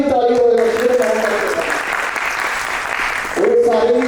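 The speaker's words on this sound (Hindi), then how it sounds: "यहाँ ताली ताली हो" Applause from an audience at a Jaipur tamasha folk theatre performance rises in the middle, a broad wash of clapping between stretches of a speaking voice at the start and end.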